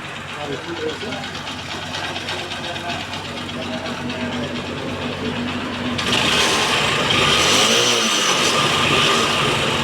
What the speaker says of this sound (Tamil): சென்சாரு கழட்டி விட்ட பின்னாடியும் வண்டி ரன்னிங்கில் தான் இருக்குது